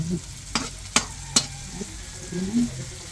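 Aromatics sautéing in a pan, a low sizzle broken by three sharp metallic scrapes or clinks of a utensil about half a second apart, with soft stirring noises afterward.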